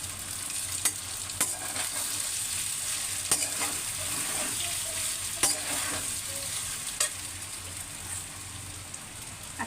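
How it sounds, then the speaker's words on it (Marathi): Sago pearls stir-fried in a pan for a breakfast khichdi hiss and sizzle steadily, with a spoon scraping and clicking against the pan at irregular intervals, close and moderately loud. "आता मी ह्याच्यामध्ये साबुदाणा परतून घेते।"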